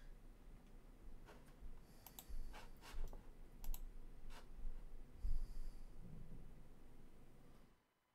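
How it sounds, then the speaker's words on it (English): Rapid clacking of a computer keyboard at a desk, irregular bursts of keystrokes at moderate distance over a steady low room hum, with no talking. "Okay, this is me typing."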